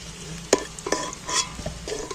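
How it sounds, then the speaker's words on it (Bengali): Hot oil sizzles and crackles while a utensil scrapes and clinks in the pan several times, lifting fried potatoes out, close by and without speech. "তেল থেকে আলুগুলো তুলে নিচ্ছি।"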